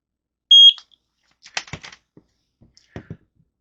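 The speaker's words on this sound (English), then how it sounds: "press and hold the sync button until you hear the beep" A security camera gives one short, high electronic beep while its sync button is held, followed by faint clicks and handling noises in an otherwise quiet room.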